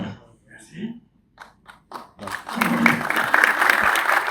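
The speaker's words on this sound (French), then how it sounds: "Je ne sais pas pourquoi, mais Diagana est le seul à avoir été applaudi" An audience at an energy-projects panel bursts into applause after a speaker finishes. The clapping starts right after some speech and builds into steady, dense applause from a sizable crowd.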